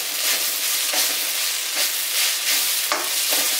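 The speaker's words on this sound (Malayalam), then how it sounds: "എന്നിട്ട് ഒന്നുകൂടെ ഒന്ന് യോജിപ്പിക്കുക." Soya chunk roast with curry leaves is stirred in a hot pan. A loud, continuous sizzle of frying runs throughout, broken by scraping strokes of the spoon about every second, close up with no talking.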